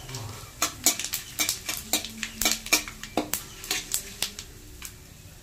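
A spoon scrapes and clinks against a pan as spices fry with ginger for a Shivratri offering, making irregular sharp strokes over a faint sizzle and repeating steadily throughout.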